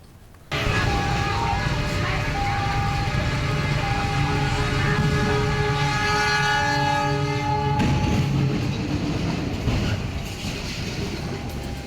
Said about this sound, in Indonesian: sebuah truk trailer tertabrak kereta api di Semarang, Jawa Tengah